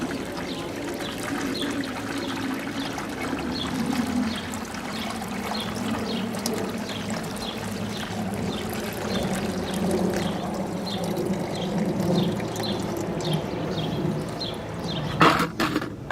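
Wood treatment liquid poured slowly through an old t-shirt to strain out particles, giving a steady close trickle and patter for the whole stretch, with a brief clatter near the end.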